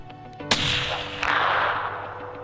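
A muzzleloader fires once at a large buck during a deer hunt, a sudden loud blast followed by a second crack and a long rolling echo that slowly fades outdoors.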